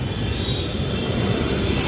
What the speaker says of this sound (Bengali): আমাদের ট্রাম চলে যাচ্ছে